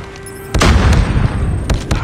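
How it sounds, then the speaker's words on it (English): An airstrike in a Domination match of the video game Call of Duty Mobile lands with a sudden loud boom and rolling rumble, followed by two sharper thuds close behind. "Enemy airstrike incoming."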